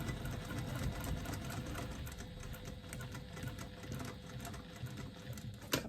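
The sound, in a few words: sewing machine stitching a lining gusset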